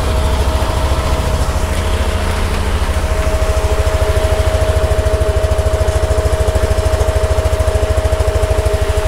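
A Yamaha NMAX V2 scooter engine idles while warming up, a loud, steady close-up putter with an even rapid pulse and a constant hum, running alone without talk.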